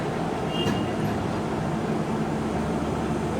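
An Indian Railways train hauled by a Central Railway WAP-7 electric locomotive, number 37537, at a station, giving a steady broadband rumble and hum that holds evenly throughout without any voices.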